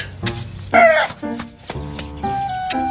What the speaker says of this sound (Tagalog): Ay, manok pala.